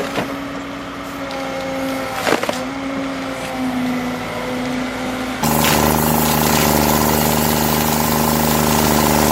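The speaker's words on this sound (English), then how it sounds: "The grinder spins at high speed," A giant tree stump grinder machine runs with a steady engine drone and grinding noise, a sharp crack partway through, then a louder, denser grinding roar, with no talking.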